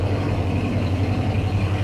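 A 1972 Ford Ranchero GT engine running at a low, steady idle, a deep rumbling drone close up with no other sounds.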